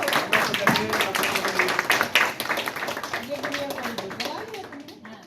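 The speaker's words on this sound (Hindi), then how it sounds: "जोर से ताली बजाएगी सब लोग" An audience claps at a public event in Chhindwara, with a ragged burst of hand claps that thins out over a few seconds while voices talk underneath.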